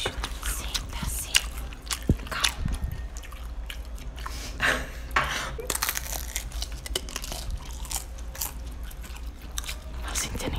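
Chewing and biting into chicken nuggets up close, with crunchy bites, wet mastication and crinkling sounds in an uneven rhythm, brief voices between bites.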